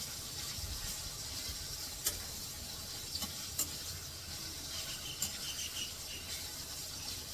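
Onions frying in a pan for a Bengali home-cooked lunch give a steady, soft sizzle and hiss, with a few faint utensil clicks and scrapes. No one is talking.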